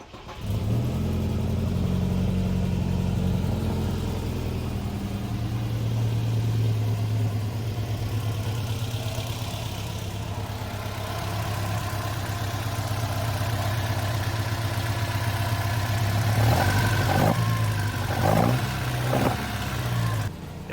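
A modified Volvo 142 engine idles steadily with a low, even rumble, then gets a few short revs near the end.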